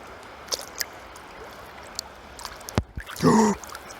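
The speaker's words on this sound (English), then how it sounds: "Gee, got a wave over it," A sea wave off Corfu washes over a camera near the water, a short rushing splash after a few seconds of quiet trickling and lapping, close and fairly loud against the low background.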